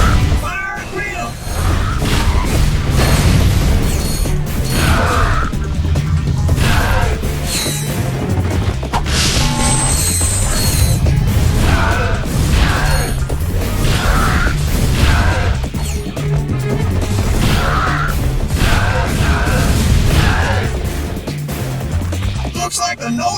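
Cannon fire and explosions from the video game Ratchet & Clank 3 boom in a dense, continuous barrage with repeated heavy impacts, mixed with game music and voices.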